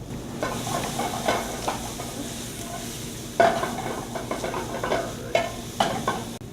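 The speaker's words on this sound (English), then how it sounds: "We'll use 2 pans, that way you can see the chicken cooking." Chicken pieces laid into a pan over medium heat sizzle steadily, with occasional sharper crackles and scraping or clinking of utensils against the pan, close and with no talking.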